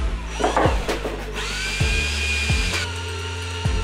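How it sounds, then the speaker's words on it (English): A power drill bores holes for wood screws during a backyard foundry build, giving one sustained whining run of about a second and a half between several sharp knocks and clanks, close and fairly loud. "I drilled some holes and screwed in some wood screws"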